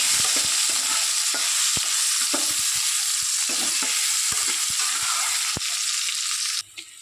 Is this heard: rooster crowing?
no